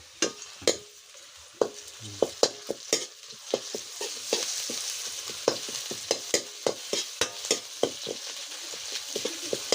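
Onions and masala fry in a pan with a steady sizzle under repeated sharp scrapes and clinks of a spoon stirring against the metal.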